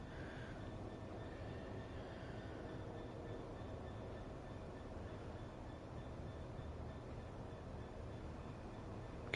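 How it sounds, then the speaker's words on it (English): A passing train in the Train Sim World 4 video game on the East Coast Main Line, a faint, steady rumble with a distant metallic wheel tone, continuous and unbroken, with no talk. "Can hear another train."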